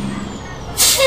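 A Kenworth W900 truck's air brake releases a sudden, loud, sharp hiss that bursts in near the end, after a quieter stretch of cab and road noise.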